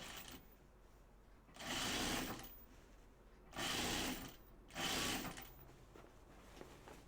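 A sewing machine stitches pajama bottoms in three short bursts of fast, buzzing whir, separated by quiet pauses, heard close in an otherwise hushed room.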